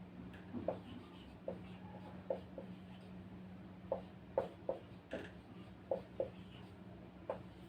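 Marker or chalk strokes on a board as a country name is written, a series of short, scattered scratches and taps over a steady low room hum, with no speech.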